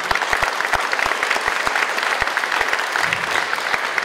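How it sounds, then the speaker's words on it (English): A seated audience at a graduation ceremony applauds the staff who built the stage and seating, a steady wash of many hands clapping with some sharper nearby claps standing out. "so we give them a round of applause."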